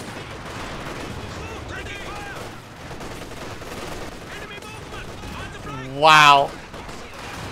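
Machine gun fire rattles in Company of Heroes 2 as a continuous, gritty stream of battle noise, and a man briefly exclaims near the end.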